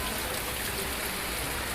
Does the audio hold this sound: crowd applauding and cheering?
no